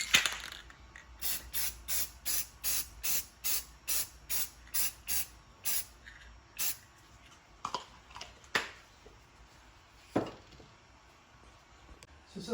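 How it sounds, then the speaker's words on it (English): Short bursts of spray paint hiss as a 3D-printed Commissioner James Gordon figure is coated with matte enamel, about a dozen evenly spaced blasts, then a pause and a few more scattered sprays with faint handling clicks between. "if you guessed spray him with matte enamel, you're right"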